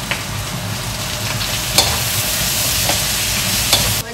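Chopped garlic and diced tomato sizzle in a hot pan, a loud and steady frying hiss close up, with a few light knocks from stirring and no talking.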